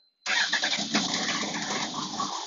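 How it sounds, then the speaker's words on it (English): A car engine cranks on a hot-wired starter motor and catches abruptly, then runs loud and rough close by, with no talking. "I'm going to just hot wire the starter motor."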